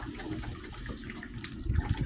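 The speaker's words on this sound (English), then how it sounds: "then the water will start flowing through there" Water runs through a small discharge hose from a pump used to cool homebrewed Tripel wort, producing a soft, steady trickling flow with a slight gush near the end.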